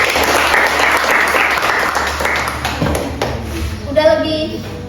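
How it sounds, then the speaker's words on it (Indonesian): A room full of children in a classroom claps together, steady and loud, with some chatter, fading into a few scattered voices at the end. "Tepuk tangan dulu"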